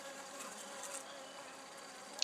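A bee at a top bar hive makes a steady, close buzzing drone that holds for the whole stretch, with no voices.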